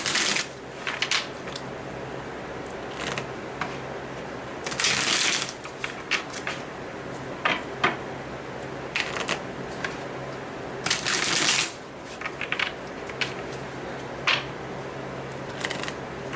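Tarot cards being shuffled close up, with soft continuous riffling and rustling broken by repeated bursts of sharper flutters as the deck is split and bridged, quiet and without speech.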